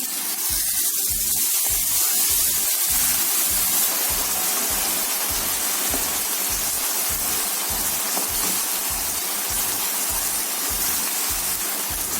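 Water splashes and hisses steadily into a hot pan of cooking mushrooms seasoned with salt, pepper and mushroom powder, a loud continuous spray with no talking.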